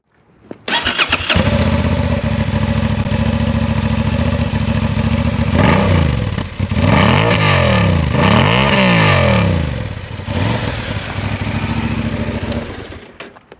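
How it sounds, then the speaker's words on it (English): A Honda Hornet CB750 motorcycle engine with a standard exhaust pipe cranks and fires, then settles into a loud, close exhaust rumble with several sharp throttle blips in the middle before fading. "Let me start the motor for you, and so you can hear the exhaust note"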